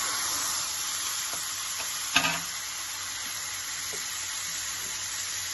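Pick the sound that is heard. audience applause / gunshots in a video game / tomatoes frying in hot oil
tomatoes frying in hot oil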